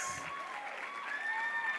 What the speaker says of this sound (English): Round of applause until everybody is at their place